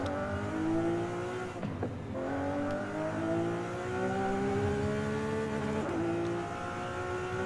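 A Lamborghini Aventador SVJ in Forza Horizon 5 revs hard, its engine note climbing steadily, dropping sharply at gear changes, and climbing again, loud and close with no talk.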